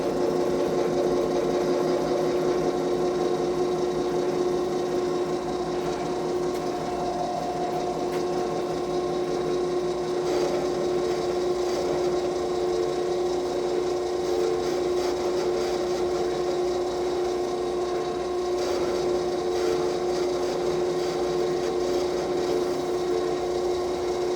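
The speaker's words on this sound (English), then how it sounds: "I want to see if we can cut this thread relief." A lathe cuts a thread relief on a 6.5x47 Lapua rifle barrel tenon, giving a steady whirring machine hum with a tonal whine that holds evenly throughout.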